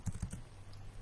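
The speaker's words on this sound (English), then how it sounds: "I am typing, and I cannot" Quick bursts of keystrokes on a computer keyboard, four or five close clicks in rapid succession followed by quiet room tone, with no talking.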